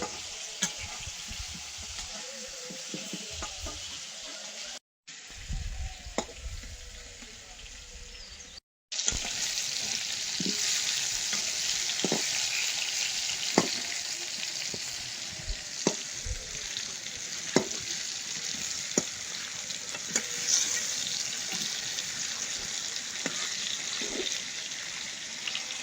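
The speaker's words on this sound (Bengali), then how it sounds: "হলুদ দিয়ে আলুটা ভেজে নেব" Potatoes frying with turmeric in a pan for a village-style duck curry, a steady close sizzle with scattered sharp pops and crackles, briefly interrupted by two short gaps near the start, with no talking.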